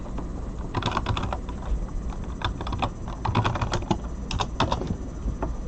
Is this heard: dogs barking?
no